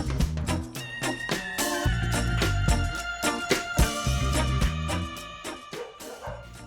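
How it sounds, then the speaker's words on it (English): Dogs bark and yip repeatedly in quick bursts, fairly close, with a whimper mixed into the clamor. "My dogs are barking at somebody outside."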